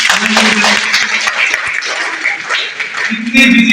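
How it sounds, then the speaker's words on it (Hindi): A crowd applauding at a paramedical institute event in Meerut, a dense wash of clapping with a voice heard over it at the start and end. "तो एक बार और जोरदार तालियां हो जाए।"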